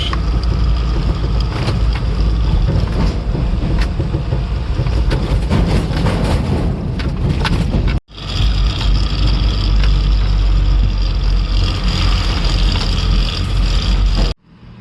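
An empty truck rumbles and rattles loudly along a rough dirt road, the engine and bouncing body noise continuous with a brief cut partway through.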